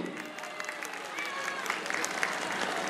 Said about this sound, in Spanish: Aplauso para la carroza del Boy.